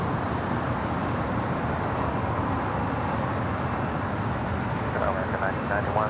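A China Airlines Cargo Boeing 777 passes directly overhead at LAX, its dense, continuous jet roar filling the whole stretch at steady loudness.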